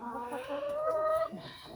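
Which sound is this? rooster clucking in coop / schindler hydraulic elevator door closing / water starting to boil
rooster clucking in coop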